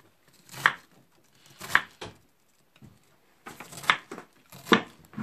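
A knife chops cabbage for sauerkraut on a board, with about six irregular, crisp thuds spaced roughly a second apart, close and moderately loud, with soft shuffling between cuts.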